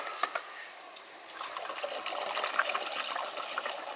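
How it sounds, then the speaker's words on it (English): Water runs and trickles steadily into a small plastic bottle cap, a soft splashing stream that gradually fills. "But first you're going to fill it with water."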